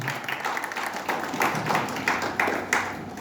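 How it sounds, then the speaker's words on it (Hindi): An audience at a Hindi book-launch event gives a burst of clapping and applause, steady and fairly loud for a few seconds, with no talking over it. "जोरदार तालियां हो जाएं"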